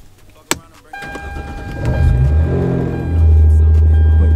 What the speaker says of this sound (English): Clutch in, turn on the car.